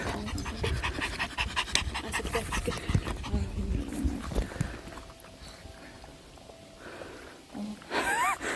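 A dog pants rapidly and steadily at close range, with paws scuffling and occasional faint sounds at a dog park in Chuncheon, then a brief higher noise near the end.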